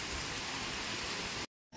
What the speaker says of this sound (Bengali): বাট বৃষ্টিটা কনস্ট্যান্টলি হয়েই যাচ্ছে